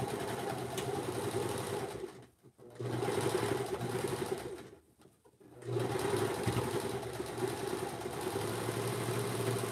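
A sewing machine runs straight stitches through sweater knit in steady bursts, pausing twice briefly before resuming at a close, even hum.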